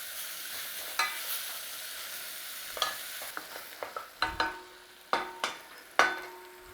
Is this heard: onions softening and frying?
yes